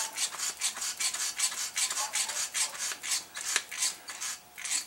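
A grease gun pumps grease into the upper ball joint fitting on a GMC Envoy, about fifteen quick, regular squeaky rasping strokes, close and fairly quiet, with no voices.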